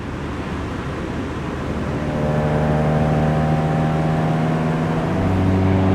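An EM1 Honda Civic Si clone cruising on the road gives a steady engine drone with road rumble from inside the cabin, and the tone climbs a little as it picks up speed.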